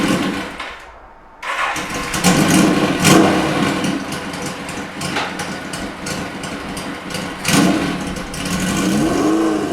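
An early-1980s Suzuki GS1100L cruiser motorcycle engine fires up and revs, a loud, close throaty roar that rises and falls in several surges with no talking.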